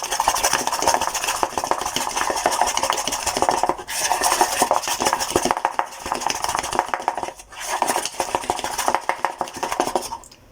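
Protein pancake batter being mixed in a bowl, a steady, rapid scraping and clinking of utensil against the bowl that runs almost continuously, with two short pauses, close and fairly loud.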